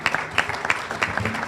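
Audience applause at a Tiger Bay club luncheon in Manatee County: a moderate, steady patter of clapping from a room of people lasts the full moment, with sharper bursts every so often.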